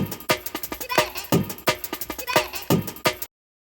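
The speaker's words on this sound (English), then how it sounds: "taken one of the breaks from the classic DnB break pack" A punchy drum and bass breakbeat loop from a classic break pack, sharp snare hits and kicks in a busy, syncopated rhythm, slightly roomy and gritty, ending abruptly.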